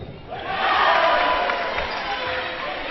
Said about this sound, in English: The cheering you're hearing is from the home team, the Austrians.